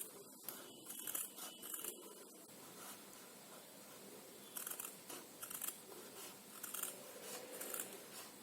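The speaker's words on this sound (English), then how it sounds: "So now I'll take this felt and I'll cut out a strip, 2 strips" Scissors snipping through a strip of felt while a simple pencil holder is made, giving short crisp cuts in quick bursts, close and moderately quiet, with no talking.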